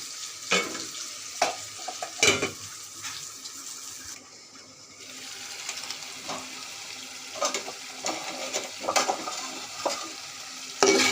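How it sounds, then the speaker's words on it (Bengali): Chopped taro stir-fried in a pan for a prawn and taro curry, with repeated scraping and clattering stirs over a soft, continuous sizzle, close and fairly quiet, with a brief lull midway. "এর মধ্যে আমার কাটা কচুগুলো দিয়ে দিচ্ছি। ভালো করে কষিয়ে নিতে হবে।"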